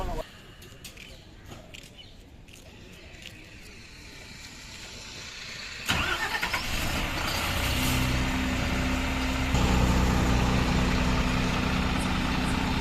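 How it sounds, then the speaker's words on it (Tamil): A heavy diesel engine rumbles steadily, growing louder and fuller partway through with a low droning hum, heard close up at the rear engine of a Volvo B8R bus. "guys Volvo பஸ்ஸோட rare engine சவுண்டுங்க"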